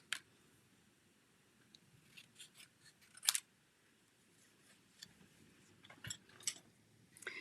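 Scissors snip through card paper in a quiet room, giving a few faint, scattered crisp cuts spaced irregularly over several seconds.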